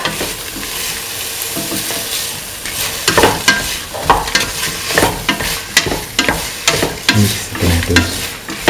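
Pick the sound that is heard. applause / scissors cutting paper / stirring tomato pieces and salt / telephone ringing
stirring tomato pieces and salt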